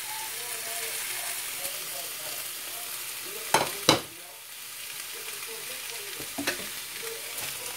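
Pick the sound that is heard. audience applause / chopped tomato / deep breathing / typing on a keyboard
chopped tomato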